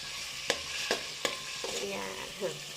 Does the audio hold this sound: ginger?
yes